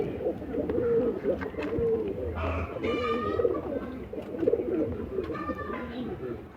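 Madrasi pigeons coo in soft, repeated low rolls close by, with a few brief higher calls and faint voices in the background.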